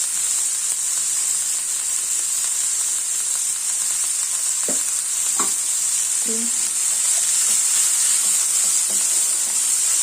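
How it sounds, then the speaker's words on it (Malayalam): Bitter gourd, onion and green chili sautéing in a pan with salt and turmeric give a loud, constant hissing sizzle, with a few light scrapes and clinks of stirring midway and no voices. "ഇതിനകത്ത് ഉപ്പിട്ട് മഞ്ഞപ്പൊടി ഇട്ട് പാവയ്ക്ക, സവാള, പച്ചമുളക് നല്ലതുപോലെ വഴറ്റാം"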